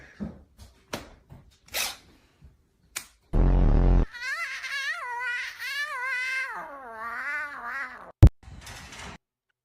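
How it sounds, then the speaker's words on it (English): A cat yowls in a long, wavering caterwaul after a few short sharp noises, its drawn-out meow rising and falling close and loud before a final sharp sound. "Yeah, cats are cats."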